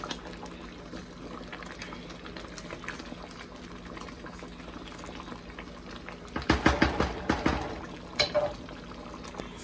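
Red sauce simmers on medium-low heat, a soft steady bubbling with faint background hum, then a cluster of louder pops and spatters near the end.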